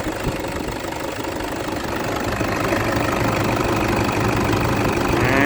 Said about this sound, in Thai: ฟังเสียงเครื่องยนต์นะครับผม